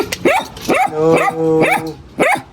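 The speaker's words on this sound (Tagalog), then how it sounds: "Dito muna tayo sa mga kulit nating may ingay na aso." Repeated close, loud dog barks in a quick series of five, with a sustained higher whine overlapping the middle barks.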